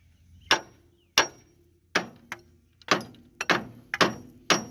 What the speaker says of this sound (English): this ain't the ideal hammer to get this out